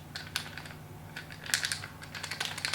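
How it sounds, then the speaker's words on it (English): A makeup brush scratching across a face: a close, faint series of quick crisp scratchy strokes in irregular bursts, some clustered, with no talk. "Do you hear the noise of this brush?"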